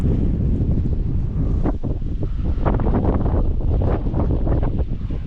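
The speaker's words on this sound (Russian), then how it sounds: "Очень ветрено." Strong wind roars loudly against the microphone in a constant heavy buffeting, with sharp gusty bursts and no voices, in the Sakha Republic (Yakutia), Russia.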